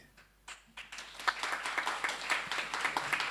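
An audience at a Jain monk's sermon claps together, the hand claps settling into a steady, fairly quick rhythm after a few scattered opening claps, moderately loud in a reverberant hall.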